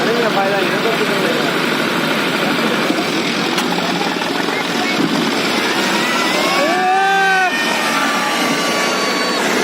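Tractor engine idling at a tractor tug-of-war event between a John Deere 5050 D and a Mahindra Arjun 605 DI, a steady diesel drone heard outdoors with crowd noise and a whistle-like tone partway through.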